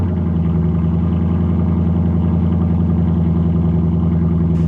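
A Lexus LC500 or Acura NSX V8 sports car engine idles with a deep, even burble, loud and close, holding steady without revving for a few seconds.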